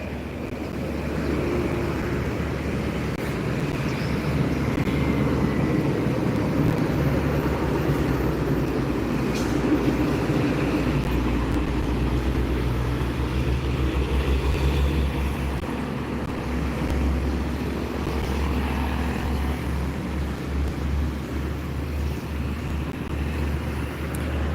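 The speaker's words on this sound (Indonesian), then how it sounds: "menunggu bus-bus yang datang dan truk melintas di depan terminal Palembang" Heavy vehicles such as buses and trucks roll past in front of Palembang bus terminal, a continuous loud low rumble of engines and tyres that swells and fades slightly as traffic passes, with no voices over it.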